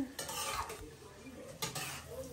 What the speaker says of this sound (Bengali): এটা দিয়ে এখন সুন্দর করে কষাই নিব